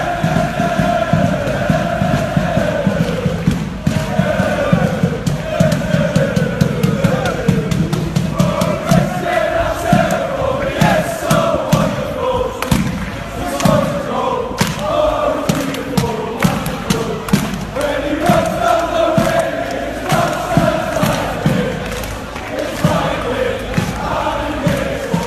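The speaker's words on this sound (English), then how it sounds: "that was the Newcastle fans where Christian Atsu was playing his football, who showed their love for singing Christian Atsu" A large stadium crowd of Newcastle football fans chants and sings together in rhythmic waves, loud and echoing, with scattered thuds and shouts throughout.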